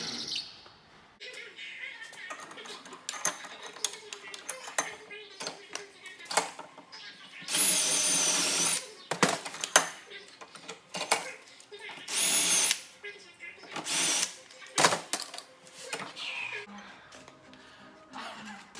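A power drill whirs in several short bursts while enlarging a hole during an air horn install on a 1963 Lincoln Continental, interspersed with clanks and workshop handling noise close up.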